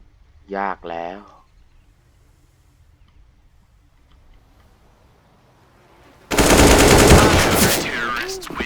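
Automatic gunfire in Counter-Strike: Global Offensive bursts in loudly near the end, a dense sustained volley after a short spoken phrase and a long quiet stretch.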